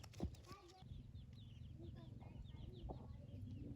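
Chickens cluck and chirp softly in a rural Thai village during the dry season, with scattered short calls over a low background hum, fairly faint and distant.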